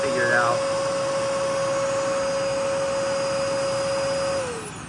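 A battery-powered vacuum cleaner runs close and loud, a steady whining hum with a fixed tone that starts with a brief rising whine and drops away as the motor shuts off at the end.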